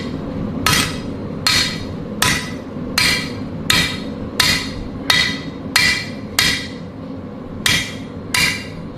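A hammer strikes hot metal while a sword is forged, ringing blows landing about every three-quarters of a second in a steady rhythm, loud and close, each hit decaying briefly over a low background hum.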